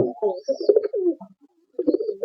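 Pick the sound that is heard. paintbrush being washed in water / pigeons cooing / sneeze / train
pigeons cooing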